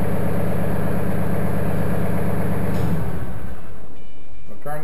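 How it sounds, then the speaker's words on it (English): A Mahindra 1526 tractor engine idling loud and close with a steady low rumble, then the engine is shut off and the sound dies away near the end. "So now we're going to turn the tractor off."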